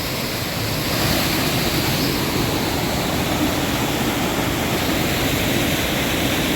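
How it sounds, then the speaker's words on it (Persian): Small waterfall pouring nearby in a natural setting, a loud, dense and unbroken rush of falling water holding steady for several seconds with no talking. "یا مینی آبشار به نظرت؟"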